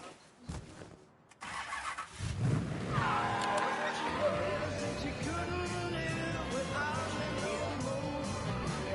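A stolen convertible in Mafia 3 cranks and fires up after a brief quiet moment, then its engine settles into a steady, loud rumbling drive that continues to the end, with a voice faintly present.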